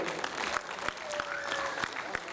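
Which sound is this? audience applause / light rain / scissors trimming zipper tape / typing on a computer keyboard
audience applause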